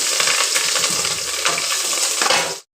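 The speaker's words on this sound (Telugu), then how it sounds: "ఆయిల్ హీట్ అయింది. ఇప్పుడు ఇందులో పచ్చిమిర్చి వేస్తున్నాను" Green chillies dropped into hot oil for a fish curry, bursting into a loud, dense, close sizzle that holds steady and then cuts off abruptly.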